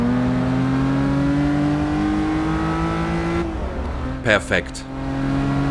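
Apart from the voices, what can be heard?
race car engine revving in video game Forza Motorsport 6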